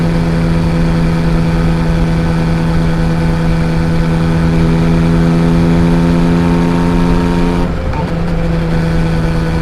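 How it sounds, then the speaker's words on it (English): A Yamaha XSR900's three-cylinder engine drones loud and close at a constant pitch in top gear, with a brief dip in tone near the end. "The 3-cylinder engine is absolutely fantastic. It has a very unique sound in top gear."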